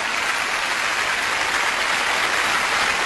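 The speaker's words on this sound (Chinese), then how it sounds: "我们同样用热情的掌声对各位领导的光临一并表示欢迎" Audience at a Xi opera concert clapping to welcome visiting officials, a dense, even wash of applause filling the whole stretch at steady loudness.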